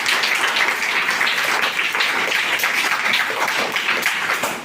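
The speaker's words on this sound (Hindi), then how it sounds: "एक जोरदार तालियों से इनके आज के इस रिजल्ट को और भी मजबूती प्रदान किया" Crowd applause at a school results ceremony: a steady, dense wash of many hands clapping that keeps an even level throughout and tails off slightly at the close.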